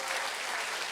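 Dense audience applause for a team at a Brain Ring quiz game show, steady broadband clapping filling the whole moment with no gaps.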